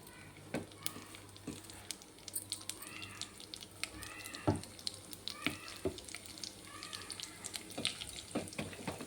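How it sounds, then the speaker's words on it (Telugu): Cumin, mustard seeds, chana dal and urad dal splutter in about two spoons of hot oil in a pan, with faint, scattered crackles and pops over a low sizzle. "ఓకే, చిట్పట్లాడుతున్నాయి కదా."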